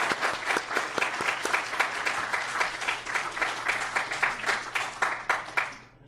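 Audience at an Estonian design days inauguration in Mexico gives sustained applause for the student organizers, a steady dense clapping that fades out at the end.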